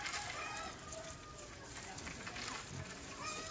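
An Asil chicken clucks in a backyard among other fowl, faint clucks and calls scattered under nearby people talking over a noisy outdoor background.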